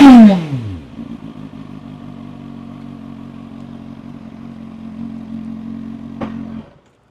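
A 2026 Cfmoto 750SR-S four-cylinder motorcycle engine idles steadily and close by, with a sharp opening blip that quickly settles, a brief clack near the end, then the engine cuts off.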